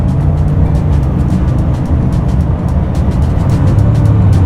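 A Bugatti engine roars steadily at around 200 km/h on a highway, with heavy road and wind noise, loud and continuous throughout.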